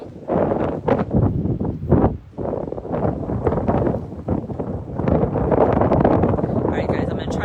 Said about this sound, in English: It's windy today too.